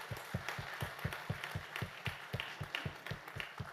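Audience at a Border Security Force (BSF) event claps to welcome the BSF band members onstage, a faint, steady rhythmic clapping that beats evenly in time throughout, sounding somewhat distant.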